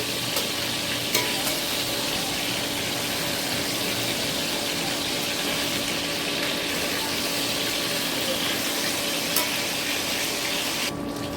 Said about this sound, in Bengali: উল্টে পাল্টে ভালো করে ভেজে নেবো।